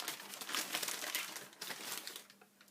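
Crinkly wrapping paper rustles and crumples steadily as second-hand op shop purchases are unwrapped by hand, close and continuous with no talking.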